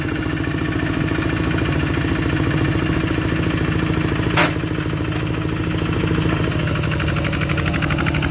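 A farm tractor's engine runs steadily and loudly in a Lao rice-farming setting, with a rapid, even clattering chug throughout and one brief sharp click partway through.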